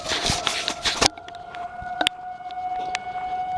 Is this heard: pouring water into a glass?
no